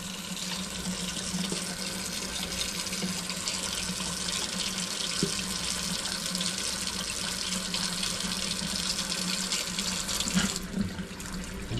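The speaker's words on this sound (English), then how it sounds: "So first I'm going to open the cold water, because it's going to dump out a bunch of rust crap." Cold water gushes steadily from an opened tap on old pipes during an electric water heater service, a loud continuous rushing splash that holds constant throughout.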